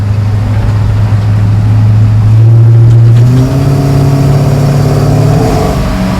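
An LS-swapped 1953 Chevy 3100 patina farm truck drives with a steady loud low engine drone that rises in pitch as it accelerates, with no talking.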